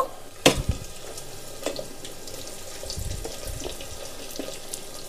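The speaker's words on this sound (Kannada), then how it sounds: "12 ಬೆಳ್ಳುಳ್ಳಿಯನ್ನು ಹಾಕಿದ್ದೀನಿ. ಇದು ಚೆಂದ ಫ್ರೈ ಆಗಬೇಕು ಫಸ್ಟು." Garlic cloves frying in oil in a pan for a potato dish, giving a soft steady sizzle and crackle with a sharp clatter near the start and a few faint stirring knocks, no talking.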